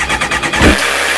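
A Kawasaki ZX9R motorcycle with a battery issue is cranked on choke, giving a quick rhythmic starter churn that ends in a single louder catch and rumble.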